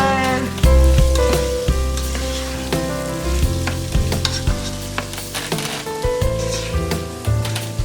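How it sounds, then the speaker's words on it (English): Vegetables for black beans sauteing in a hot pan, a dense, continuous sizzle broken by repeated scraping and clattering stirs, with a tonal music-like bed running underneath. "now we have all of our vegetables in there sauteing around, and we want to give them a good stir."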